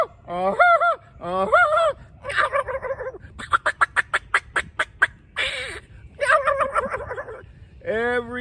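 A voice mimics wild turkeys gobbling, producing a rapid series of loud, close, warbling gobbles in bursts separated by brief pauses, along with a quick run of clipped staccato calls.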